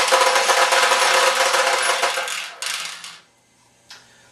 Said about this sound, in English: Sometimes there's so many balls here that they back up and they jam.